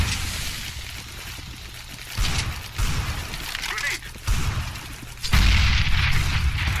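A grenade goes off in a CS:GO match, one of several heavy, booming blasts and rumbling bursts that surge out of quieter background noise at irregular intervals, the loudest arriving near the end.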